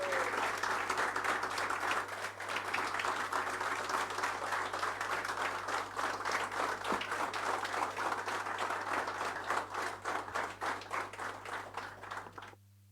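A large audience at a corporate event for GFS Builders and Developers applauds to welcome its CEO, sustained, dense clapping that holds steady for over twelve seconds and then fades out.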